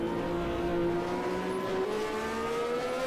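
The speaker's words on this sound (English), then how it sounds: "Mercedes 190E with the Jockey 10 engine." Mercedes 190E hill climb race car, a 1990s DTM car fitted with an F1 engine, at a European Hill Climb Championship round, a loud sustained high engine whine rising slowly in pitch as it accelerates.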